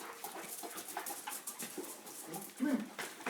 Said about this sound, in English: There's 4 puppies.